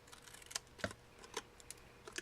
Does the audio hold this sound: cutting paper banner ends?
yes